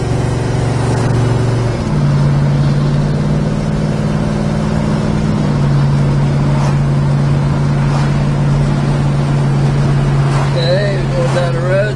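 A 1965 Pontiac GTO drives along a straight road, its engine a steady, loud drone that holds its pitch for the whole twelve seconds.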